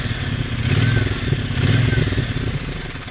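A Brixton Cromwell 1200 motorcycle's inline twin engine idles and burbles steadily up close, loud and throbbing with a slight swell in revs, heard alone without talk.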